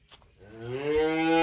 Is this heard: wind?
no